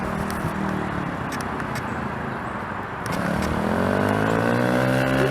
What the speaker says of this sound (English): Give it some throttle.